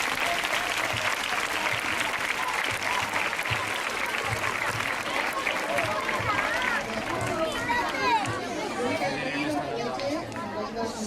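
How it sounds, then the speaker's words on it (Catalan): An audience at a school charity offering event applauds steadily, dense clapping filling the room with a loud, even wash that thins slightly toward the end, with voices and cheers mixed into the crowd noise. "Per a tots ells, moltes gràcies i un gran aplaudiment."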